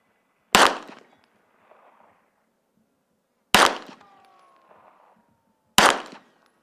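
Three sharp handgun shots with FMJ practice ammunition at a 20-yard outdoor range, spaced a few seconds apart, each a loud crack with a brief fading echo.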